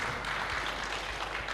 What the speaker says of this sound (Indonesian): Tepuk tangan dong untuk Neng Fatmah.